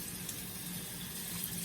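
Running water splashes steadily over orchid leaves being gently washed with soap and water, a continuous close hiss of flowing liquid like a tap or sink with no pauses.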